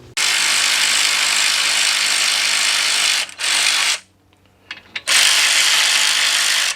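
A ratchet wrench with a socket loosens two 14mm front brake caliper bolts on a Chrysler 200-family car, giving loud sustained ratcheting runs, a short break, then a final burst.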